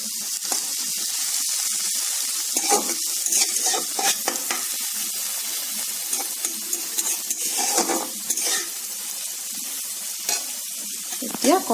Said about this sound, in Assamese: এতিয়া কম জুইত অলপ সময় ভাজিম।